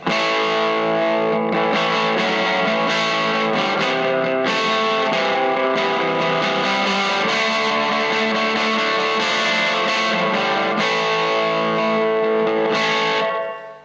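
Distorted electric guitar, a Gibson Les Paul Studio '50s Tribute with P90 pickups, plays a steady, loud rock riff with a washy echo trailing each chord, continuous for the whole stretch and stopping abruptly at the end.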